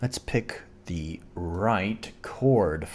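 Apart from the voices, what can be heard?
None of the usual background noises is heard.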